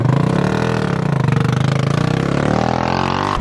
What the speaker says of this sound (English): ATV riding.